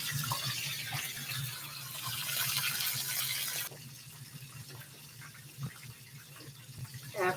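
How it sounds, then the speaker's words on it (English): Sliced tofu rinsed under running tap water in a sink, a steady gushing rush that abruptly drops to a quieter trickle midway, followed by faint splashes and handling sounds. "After I slice the solid bricks of tofu that comes in this, I rinse it several times to bring out some of its additional starches"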